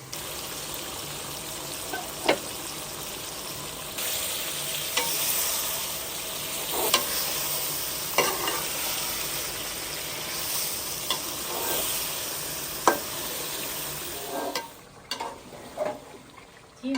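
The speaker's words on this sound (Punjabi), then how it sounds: "ਗੋਸ਼ਤ ਨੂੰ ਵੀ ਚੰਗੀ ਤਰ੍ਹਾਂ ਭੁੰਨਾਂਗੀ।" Meat frying with roasted spices in a pot for village-style chicken biryani: a continuous loud sizzle close by, broken by the scrape and clatter of a spoon stirring, with a few sharper knocks toward the end.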